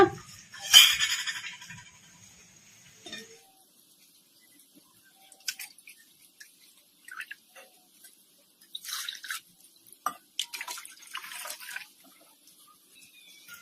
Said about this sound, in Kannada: ಈಗ ಮಸಾಲಾಗೆ ಮಜ್ಜಿಗೆ ಹಾಕೊಂಡ್ಬಿಟ್ಟಿವಲ್ಲ